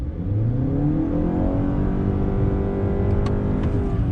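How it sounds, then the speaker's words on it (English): A 2019 Honda Accord Hybrid accelerates hard on throttle, its CVT holding the engine at a loud, steady, droning rev that whines continuously from close by without any gear changes. "with a CVT, that's the problem is that CVT just lets the revs just scream, and then you're slowly building speed"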